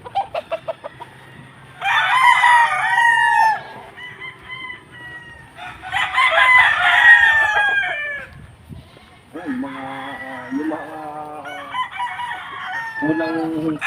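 Roosters crow loudly in long drawn-out calls, with chickens clucking and squawking between them, close by in a busy game-fowl farmyard.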